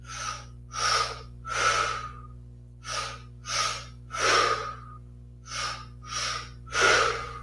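Wim Hof style breathing in a yoga session for BJJ: three rounds of two quick nasal sniffs in followed by one longer exhale, loud and close, with a steady low hum underneath.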